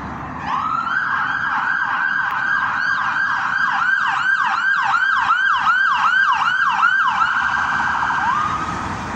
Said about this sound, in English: Can you hear a siren there?